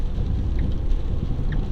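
Rain falling on a vehicle during a drive, a steady, moderately loud patter and wash over low road and engine rumble.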